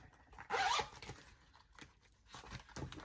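A zipper on a travel sketch kit case is pulled shut in one quick, loud burst near the start, followed by quieter handling rustles and small clicks.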